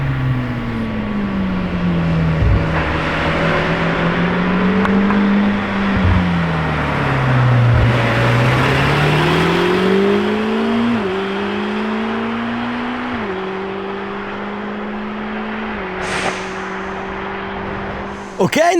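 A silver Lamborghini Temerario supercar revs as it drives past, its engine note climbing and dropping in repeated rising sweeps over a fairly loud, continuous roar, then swelling briefly as it passes.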